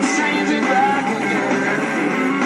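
A bass player plays bass alongside another musician in a dense, full band mix, the bass sitting low and steady under bright, busy upper parts without pause.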